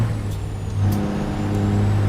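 A DD60 truck engine sound mod in American Truck Simulator gives a steady, deep diesel rumble, loud and close, with a faint hiss of air over it and no talking.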